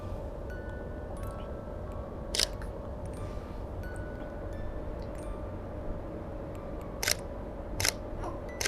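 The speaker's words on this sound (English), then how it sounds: "And I will zoom to take a photo of his face." Camera shutter clicks while photographing a newborn baby indoors: a few sharp, isolated snaps spaced apart, one early and a quick cluster near the end, over a faint steady background hum.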